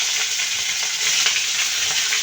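Onion frying in hot oil after browned garlic, a continuous loud hiss and sizzle, close and steady, with faint stirring clicks.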